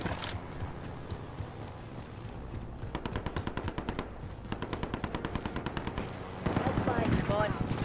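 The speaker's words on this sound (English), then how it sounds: "Well, I'm being shot." Rapid bursts of automatic gunfire in a video game, with dense repeated shot trains crackling loudly across the clip and a sharper, louder volley near the end, under a continuous game soundscape.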